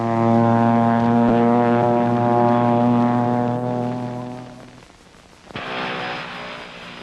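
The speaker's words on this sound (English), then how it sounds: "a new kind of aircraft called STOL, for short takeoff or landing, have to be used" A STOL short takeoff or landing aircraft in wartime northern Laos, a loud droning propeller engine hum that fades briefly, then gives way to a rushing, broadband roar.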